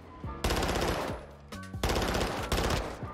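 Bursts of rapid automatic gunfire from a Castle Fall blueprint weapon in Modern Warfare 2, loud and close, fired in several short strings separated by brief pauses.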